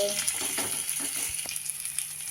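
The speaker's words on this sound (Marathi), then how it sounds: "थोडं थोडं तेल सोडून दुसऱ्या बाजूने पण आपल्याला फ्राय करून घ्यायचं" Sweet corn appe sizzle in oil in an appe pan, a soft, steady frying crackle with faint ticks and small clinks, quiet and even, with no talking over it.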